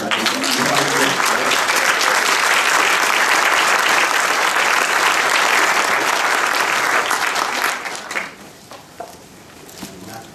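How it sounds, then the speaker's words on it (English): Loud, dense applause fills a graduation ceremony hall for mathematics graduates, sustained for about eight seconds before quickly dying away into a quiet room. "So I'm going to give a big round of applause."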